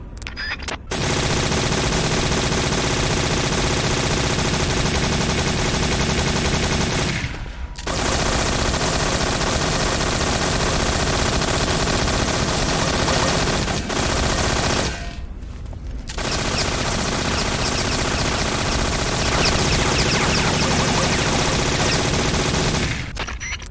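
Sustained AK-47 assault rifle fire from the video game Metal Gear Solid 3, a loud, dense automatic rattle in three long bursts separated by two brief pauses, with no voices over it.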